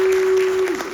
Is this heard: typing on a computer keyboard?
no